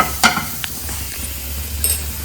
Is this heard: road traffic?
no